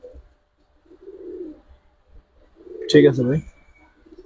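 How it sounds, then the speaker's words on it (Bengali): Giribaz pigeons of the Afsan Bagha colour type, male and female, give soft low cooing at a loft, with a louder throaty coo burst near the end and a voice speaking briefly. "নর মাদি দুইটাই নন স্টপ গলা কষা"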